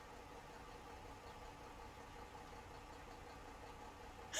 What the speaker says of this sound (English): Diesel engine.